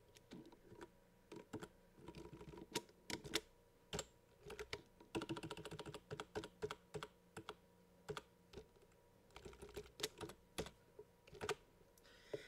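Computer keyboard typing in bursts of quick, close clicks while erasing text in Notepad++, with short pauses between runs of keystrokes and no voices.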